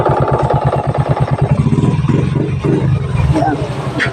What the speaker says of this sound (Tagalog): Hindi na siya namamatay ngayon. Nagre-response agad yung starter niya